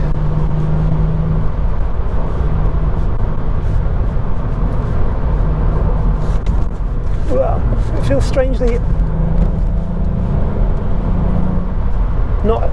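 Volkswagen up! GTI driven briskly on the road, a steady low engine and tyre drone from inside the cabin, with someone talking over it for most of the time.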